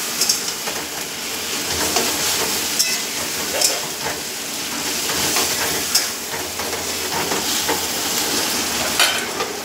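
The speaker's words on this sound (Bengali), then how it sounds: "জল দেবো না, এটা কষিয়ে কষিয়ে রান্না করবো।" Meat sizzling and frying in a dry pan with no water added, being stirred and slow-cooked down, a steady close crackle with scraping stir strokes throughout.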